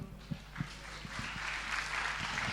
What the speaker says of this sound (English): Round of applause, please, for Zi Hao and Yvonne once again.